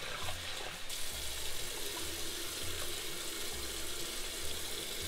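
Water runs steadily from a tap into a sink as rinsed lentils for a lamb or mutton dal curry are drained, a continuous splashing rush with no talk.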